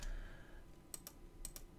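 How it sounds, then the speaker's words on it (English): Delete key on a computer keyboard tapped twice, each a quick double click, crisp and close but quiet against a faint room hiss. "I am clicking delete. No, I'm not clicking backspace."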